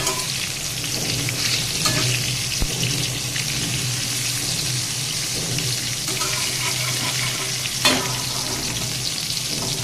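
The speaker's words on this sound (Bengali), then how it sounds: "বেগুনটা কিন্তু আমার বেশ ভালো করে ভাজা হয়ে গিয়েছে" Eggplant slices fry in oil in a pan, a continuous bright sizzle with a few soft clinks of utensils, close and steady without talk.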